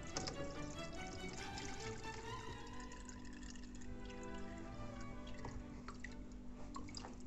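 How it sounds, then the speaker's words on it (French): Homemade kvass, a bread beer, poured through a strainer and a cloth filter, giving a steady close trickle and splash of liquid with scattered drips throughout. "j'ai une passoire et un filtre, un torchon qui va faire, qui va pouvoir passer le liquide beaucoup plus finement"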